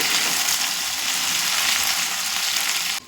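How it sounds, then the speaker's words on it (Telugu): Cut okra fries in a pan and is tossed up and down, a loud, dense, close sizzle that holds steady for about three seconds before cutting off abruptly at the end. "కట్ చేసుకుని బెండకాయలు వేసుకున్నాను వేసుకొని కొంచెం పైకి కిందకి మిక్స్ చేసుకుంటున్నానండి"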